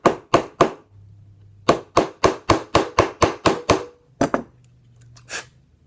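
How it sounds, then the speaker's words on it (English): Brass hammer tapping a pistol trigger part flush, a series of sharp metallic taps in quick rhythmic bursts, about three, then nine, then a few more, close and loud. "Always use a brass hammer if you can."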